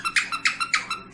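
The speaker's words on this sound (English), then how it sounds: "His tongue's got a little squeaker in it." A squeaker inside a toy's tongue squeaking in quick rhythmic bursts, about seven close, bright squeaks in a second, with no talk.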